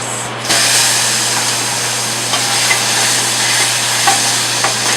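Pears dropped into a hot pan with caramelizing sugar, bursting into a loud, close, continuous sizzle with faint clicks of stirring throughout.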